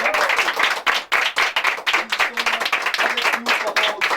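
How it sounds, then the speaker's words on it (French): In a Bordeaux radio studio, a small group claps, with sharp, close, uneven hand claps for a few seconds alongside some voices. "Qu'on applaudit forcément."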